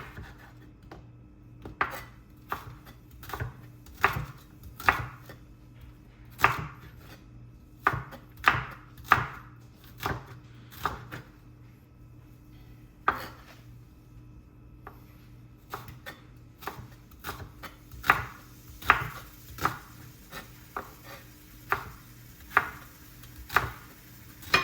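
Knife chopping onions on a cutting board, crisp irregular taps in quick bursts with short pauses, close and clear over a quiet low hum.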